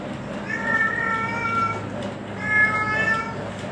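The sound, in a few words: cat meowing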